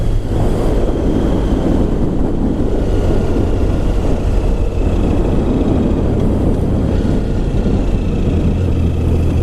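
Triumph Sprint GT SE 1050 motorcycle cruising gently in 4th gear at about 25 mph on light throttle, a steady low engine drone under strong wind rush, loud and unbroken.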